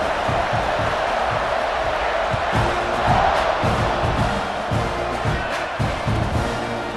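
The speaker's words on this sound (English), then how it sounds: "this crowd is buzzing after that last score" A stadium crowd in EA Sports College Football 26 keeps up a loud, steady roar after a score, with bursts of cheering and shouting swelling through it.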